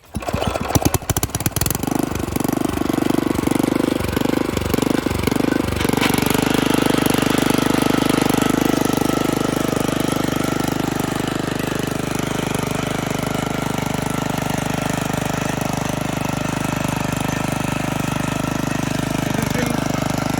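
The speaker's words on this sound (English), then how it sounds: "now it's a time to cultivate with the rotavator. So we will cultivate with this mini tiller." A mini tiller rotavator cultivates a field to mix manure into the soil. Its engine starts with several sharp knocking bursts, then settles into a loud, steady, close droning run that continues to the end.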